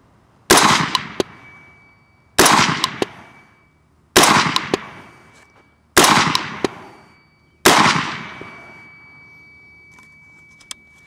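Five loud, sharp rifle shots from a PSA Sabre AR-15 firing Remington Premier Match 69-grain ammunition, spaced about two seconds apart, each with a short ringing decay outdoors.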